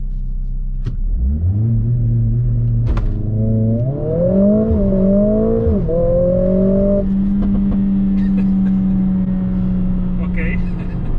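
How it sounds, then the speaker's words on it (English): A 2020 Mercedes-AMG CLA 45 S launched from a race start: its engine note climbs loud and close in rising steps, dips briefly as if shifting gears, then settles into a steady drone. "Let's start this car from a race start."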